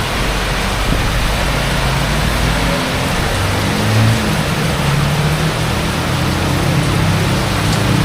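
Heavy rain during a downpour in the Philippines, a steady broadband roar of falling water with low rumbling underneath, continuous and loud throughout with no voices.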